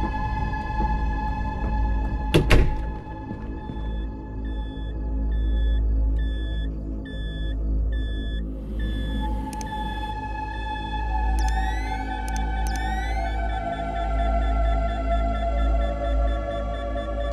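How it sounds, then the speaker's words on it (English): An electronic beep repeats in a steady rhythm in the horror video game Fears to Fathom: Carson House, clear over a low droning background before shifting into sustained tones and rising sweeps. "There is a beeping going on, but I don't see anyone."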